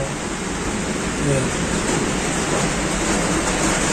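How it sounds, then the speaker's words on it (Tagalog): Dense, steady roar of heavy rain pouring onto a rooftop in Hong Kong during the rainy season, continuous and loud throughout with no pauses. "ang lakas po ng ulan po dito"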